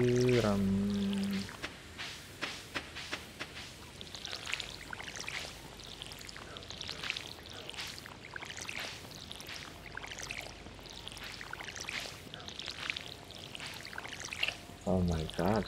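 Watering can pouring over crops in the Stardew Valley farming game, a series of short splashing, trickling bursts repeating across the span, fairly quiet, with a brief musical tone at the start and end.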